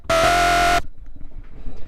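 Harsh, horn-like synth squeal built in Massive with a scream filter, modeled on a track, sounds once loudly for about three quarters of a second before stopping sharply into near silence.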